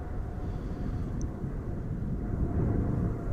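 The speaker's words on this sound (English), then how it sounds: "As you can hear, we do have some planes" Departing airliners on Amsterdam Schiphol's Zwanenburgbaan runway, a continuous low, rumbling engine roar heard from a distance that swells slightly toward the end, with no talking.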